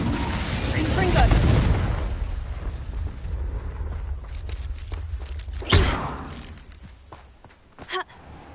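Spell explosions from the Confringo blast in the Hogwarts Legacy video game boom alongside game music and ambient noise. A couple of heavier thuds stand out near the end.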